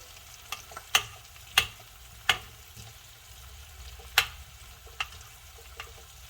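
Butter melts with herbs in a hot Blue Diamond non-stick pan, a faint low sizzle punctuated by several sharp clicks of a metal spoon against the pan at uneven intervals.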